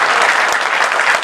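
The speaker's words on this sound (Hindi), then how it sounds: "पूरा सदन मुझे जोरदार तालियां बजा करके अनुमति दे" A full hall audience bursts into loud, brisk applause, a dense wash of clapping lasting only a moment.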